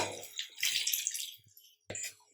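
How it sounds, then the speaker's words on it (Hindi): Water poured from a glass into minced meat for shami kabab, a close, splashy pour that trails off, then a short second splash, with no talk. "यहाँ मैंने 3/4 गिलास पानी लिया है, क्योंकि कीमा अपना पानी भी छोड़ता है।"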